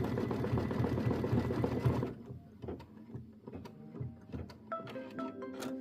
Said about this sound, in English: Change thread to desired color. Stitch the roof satin outline.